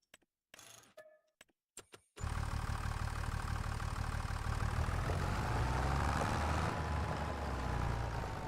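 In Farming Simulator 25, a few short clicks and thumps lead into a John Deere tractor engine that starts and idles steadily, a low mechanical rumble holding at an even, fairly loud level.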